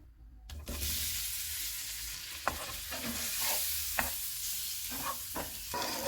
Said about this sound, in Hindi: उबले हुए 6 अंडे डालेंगे। इनको 1 से 2 मिनट तक भूनेंगे।